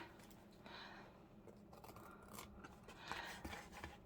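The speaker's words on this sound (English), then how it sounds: "Let's snip this off." Scissors snipping a piece off a mini file divider card, a few quiet, close cuts with crisp transients over a soft room background.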